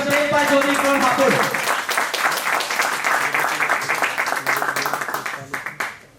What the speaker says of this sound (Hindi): मैं लास्ट नाम लेने से पहले उनके लिए जोरदार तालियों से स्वागत करना चाहूंगा मिस्टर प्रेमपाल चौधरी जी।